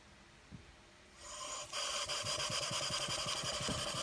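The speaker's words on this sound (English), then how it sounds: "So I will run the engine for you and take a look." A vintage brass mill-type steam engine starts up and settles into a fast, smooth rhythmic chuffing with rapid mechanical ticking. It is loud and close, grows steadier after a quiet lead-in, and no one speaks.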